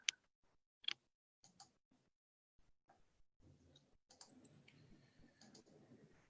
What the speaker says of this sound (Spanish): Hay un ruido de fondo, yo no sé si es de teclado, si es tu micrófono o si hay alguien más abierto.